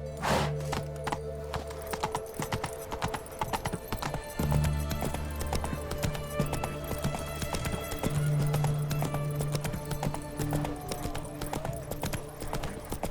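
Rhythmic clip-clop of a horse's hooves in The Witcher 3, steady trotting through a town, close and continuous under ambient game sounds, with a brief whinny and occasional voices.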